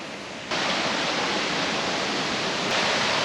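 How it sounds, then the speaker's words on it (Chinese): A mountain waterfall swollen by heavy rain roars as a loud, continuous broadband rush that starts abruptly and stays steady, with no voices. "所以今天瀑布应该蛮可观的。"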